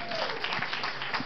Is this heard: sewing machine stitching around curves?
no